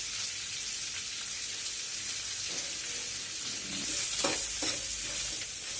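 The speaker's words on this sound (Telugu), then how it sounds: "ఇప్పుడు దీనిలో ఇంగువ వేద్దాం." Asafoetida dropped into a sizzling Telugu-style tempering in a pan while making daddojanam curd rice, a steady hiss of frying oil with a few brief louder crackles near the end, close and without talk.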